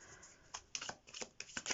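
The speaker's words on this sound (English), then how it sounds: "let's give these cards a shuffle" Tarot cards shuffled by hand, a rapid series of crisp riffling bursts in several short bunches, close and fairly quiet, with no talking.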